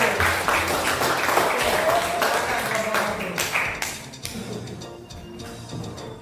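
A classroom or workshop group applauds a presenting team, giving a dense burst of clapping that holds for about four seconds and then fades, with some voices mixed in.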